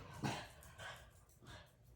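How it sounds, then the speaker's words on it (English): A dog barking indoors, three short muffled barks spaced evenly, faint and somewhat distant. "sorry, my dog's going crazy now"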